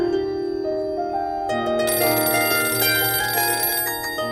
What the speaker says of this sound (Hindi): न जाने कौन नालायक फोन कर करके मेरे अखबार का समय खराब कर रहा है